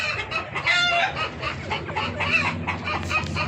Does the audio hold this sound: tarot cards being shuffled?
no